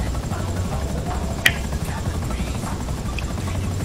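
Helicopter in GTA 5 during a prison break heist mission, a steady droning rotor and engine noise running throughout under people talking, with a brief sharp click partway through.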